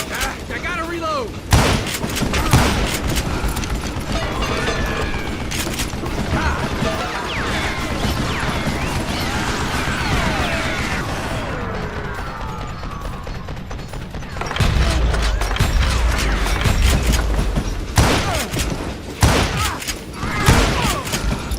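Gunfire from the Western shooter Call of Juarez Gunslinger, a dense run of loud, crashing shots and impacts that fill most of the stretch, with a brief lull partway before heavier blasts return; someone talks over the action.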